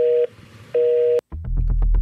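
A telephone busy tone pulses twice as a loud steady beep with pauses after a call is hung up, then a click cuts it off and a low, busy rumble with faint clicks follows.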